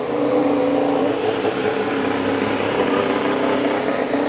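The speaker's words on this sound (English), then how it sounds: "the cars are going to be coming back to the pit lane and line up in the order of their grid" Formula 1 cars at the 2025 Belgian Grand Prix heading back to the pit lane on a wet track, heard as a steady, dense engine drone with crowd and track ambience, no talk.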